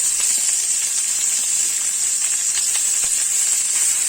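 Chopped onion sizzles in hot oil in a wok, a steady, bright hiss that stays loud and even throughout with faint crackles scattered through it.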